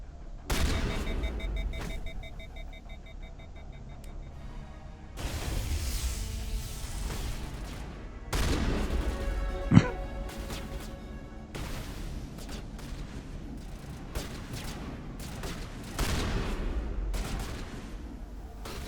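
Shotgun gunfire in the video game Mass Effect Legendary Edition, several booming blasts spaced seconds apart with a clear sharp crack in the middle, heard over a low rumbling game soundscape.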